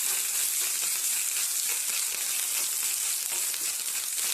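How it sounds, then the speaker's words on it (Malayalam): Grated coconut being tempered for pachadi sizzles in a hot pan, an even and continuous close frying hiss with light stirring and no talk. "കുറച്ച് ചിരവിയ തേങ്ങയും കൂടെ ഇതാക്കിയിട്ട് നമുക്ക് താളിച്ച് കൊടുക്കാം"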